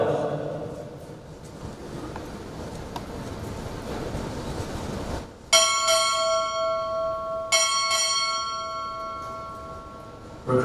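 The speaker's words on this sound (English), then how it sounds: "Time order, strike four bells." After several seconds of murmuring room noise, a ship's bell at a U.S. Navy chief petty officer pinning ceremony is struck four times in two close pairs, each clear strike ringing on and fading.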